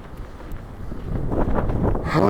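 Blizzard wind gusts and roars against the microphone as a dense low rumble, swelling louder toward the end, with a brief voice near the close.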